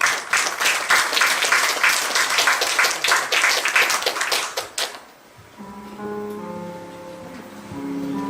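Audience applause from a crowd at a Korean performance event, a dense burst of clapping lasting about five seconds before fading out, followed by the soft start of music.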